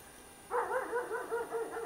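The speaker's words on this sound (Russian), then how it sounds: "Собаки так просто не будут лаять." Dogs bark outdoors in the distance, a rhythmic run of repeated barks starting abruptly and continuing steadily, moderately loud over a faint background hiss.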